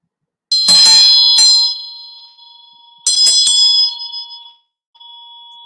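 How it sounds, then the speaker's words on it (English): A bell is rung to clear energy during a live tarot reading. Two clear, bright strikes a few seconds apart, each leaving a long shimmering ring that fades, with a faint tone lingering at the end and no voices. "Sorry for the bell ring."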